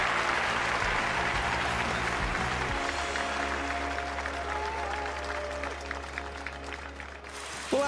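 A stadium crowd claps and cheers steadily at an archery event in the London 2012 Olympic video game on PS3. The applause is dense and sustained and fades slightly toward the end, with faint voices mixed in.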